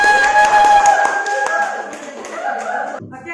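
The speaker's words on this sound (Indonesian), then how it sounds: "kita beri aplaus untuk kelompok 3" Classroom applause for a student group, a dense patter of many hands clapping close by, fading toward the end under a voice speaking.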